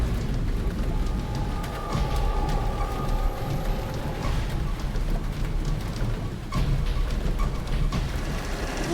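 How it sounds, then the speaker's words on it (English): Rain drums on a truck cab while it drives at night on a hilly, curving highway, a loud dense wash over a low rumbling road noise, steady throughout with occasional heavier bursts and no talking. "But beyond her headlights is nothing but dangerous weather. Rainy, on top of dark, and hills and curves,"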